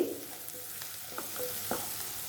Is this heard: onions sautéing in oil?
yes